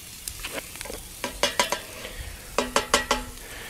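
Food fries in a cast iron skillet set over a fire pit built from a truck wheel, soft sizzling underneath clusters of sharp metallic scrapes and knocks as the pan is worked, close and without talk.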